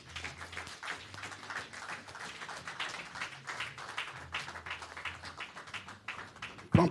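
Congregation applauding at a church service, a sustained patter of many hands clapping at moderate distance, steady throughout with a brief louder thump at the very end.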